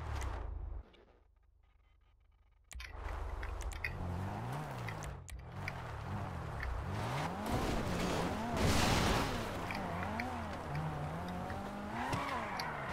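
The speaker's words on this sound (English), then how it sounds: "Sounds like the Karuma." Karuma armored car in Grand Theft Auto, its engine revving up and down in repeated rising and falling surges, loud and close, with tire noise and a brief quiet gap before the engine returns.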